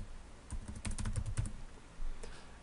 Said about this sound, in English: So I'll go ahead and type mine in there.